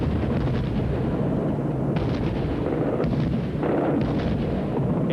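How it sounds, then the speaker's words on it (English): Iraqi anti-aircraft guns firing tracer bullets into the night sky during the 1991 war, a dense, continuous roar of heavy gunfire with overlapping bursts and booms, loud and sustained throughout with no voices. "Iraqi anti-aircraft gunners probed the sky with trails of tracer bullets"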